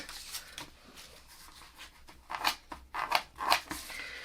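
Scissors trim paper in a quiet room with a series of soft, separate snips that grow louder and closer together toward the end.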